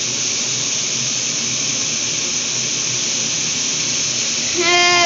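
Ingredients sautéing in ghee in a pan for Tamil-style brinji rice: a loud, steady sizzling hiss continues throughout, with a short tonal whine near the end.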